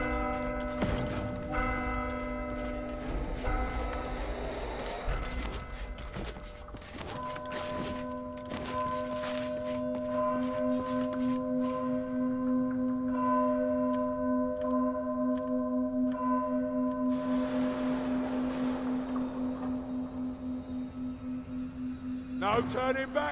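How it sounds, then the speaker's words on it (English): A church-style bell tolls in a Vermintide-style co-op fantasy video game before a rat-horde fight, its steady ringing tones sustained for about twenty seconds over game effects and clatter, with voices speaking over parts of it. "Set the bell ringing"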